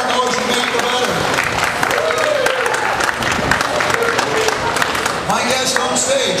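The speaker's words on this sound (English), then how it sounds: "All this applause is for you." Audience applause fills a live stage show in Scottsbluff County, dense steady clapping from a large crowd throughout, loud and close, with cheering mixed in.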